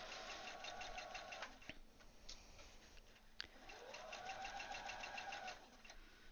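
A sewing machine stitches a garment curve, running in two fast, steady bursts with a brief pause between them for pulling out pins.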